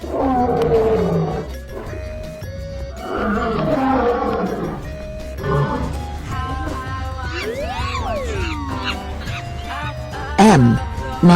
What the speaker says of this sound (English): L. Lion.